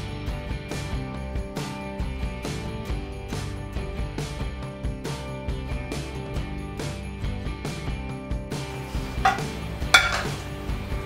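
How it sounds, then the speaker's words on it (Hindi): Rice sabudana papad frying in a little oil in a home kitchen, with a steady run of light clinks and scrapes of a utensil against the pan and a faint sizzle under them. "तो ये जो राइस पापड़ बोलते हैं वही मैं फ्राई करती हूँ"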